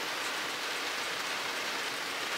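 Steady rain falling outdoors, a dense, even hiss of drops on surfaces that stays constant and fairly close throughout with no voices.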